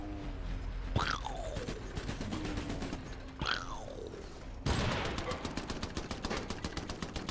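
Artillery fire in the video game Iron Brigade: loud booming blasts with sweeping whistles, followed by rapid repeated firing, over a steady mechanical background.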